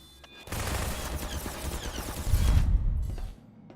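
Explosions and bursts of gunfire on a video game map, a dense rattling barrage that starts abruptly, swells into heavier booms and then cuts off sharply.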